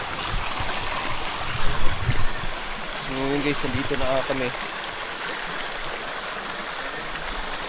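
A strong, cold stream rushes and trickles steadily outdoors, a broad continuous wash of flowing water up close that runs the whole time, with someone talking briefly over it partway through.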